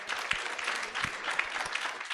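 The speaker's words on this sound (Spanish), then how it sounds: "si regalemos un aplauso con más alegría" A crowd claps in sustained applause, fairly faint and distant, with no voices standing out.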